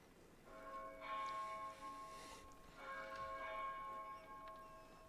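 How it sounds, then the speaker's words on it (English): Church bells ring in the medieval video game Pentiment, two clear swells of resonant tolling with lingering metallic overtones, fairly distant and soft, with no talk over them. "There's the bells."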